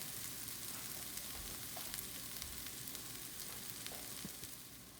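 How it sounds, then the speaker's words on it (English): Shallots stir frying in a pan on the stove, a steady soft sizzle with occasional light crackles and faint stirring scrapes, continuous and close throughout. "I'm just going to continue to stir fry this until it, gets soft enough"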